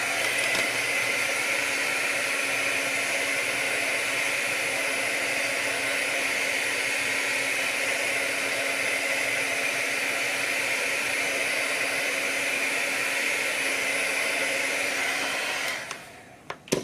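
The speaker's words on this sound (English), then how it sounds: "I love my new heat gun." A heat gun blows hot air to dry ink on a paper craft project, a loud, steady whooshing whine that runs unbroken for about sixteen seconds before cutting off, followed by a faint click.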